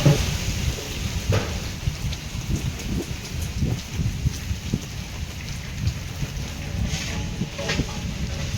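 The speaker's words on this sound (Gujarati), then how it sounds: "મોટે મોટે છાંટે વરસે." Heavy monsoon rain pours steadily in a village storm, with low rumbling and occasional louder bursts like distant thunder rolling beneath the downpour.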